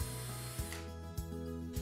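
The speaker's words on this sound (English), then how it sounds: "Pre-drill the holes" A power drill whirs in short bursts pre-drilling pilot holes for window blind brackets inside a frame, its motor pitch shifting as it bites in, close and fairly quiet with no talking.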